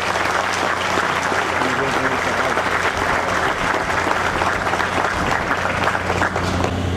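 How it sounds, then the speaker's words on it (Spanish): Loud, dense crowd applause at a building handover ceremony for Caonabo Towers buyers, a sustained roar of clapping that holds steady throughout with a low musical hum underneath. "Yo quiero un aplauso muy fuerte para todos aquellos compradores que decidieron dar el paso y que están aquí hoy presentes."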